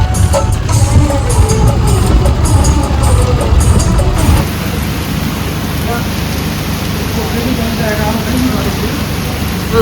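A steady, loud hiss of rain falls nearby, heavier at first and then easing to a softer, even patter with no one speaking.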